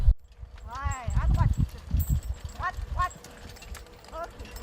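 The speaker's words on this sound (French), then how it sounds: "je travaille 1 hectare sur le domaine avec un cheval" A working horse walks through a vineyard in Épineuil, Burgundy, its hooves clopping in an uneven rhythm close by while someone talks over the steps.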